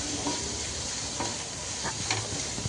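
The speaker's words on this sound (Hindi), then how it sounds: "तो प्याज हमने भून लिया है, हमें इतना ही भूनना है, ज़्यादा नहीं भूनना।" Onions sautéing in a pan for onion kachori, a steady sizzle with occasional stirring scrapes throughout, close and even, no talk.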